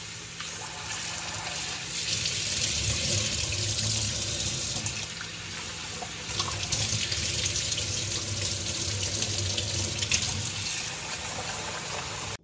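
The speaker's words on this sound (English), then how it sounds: "Once you fill both containers with water" Water runs steadily from a kitchen tap into containers being filled for soaking, a continuous close splashing gush with no pauses and no speech.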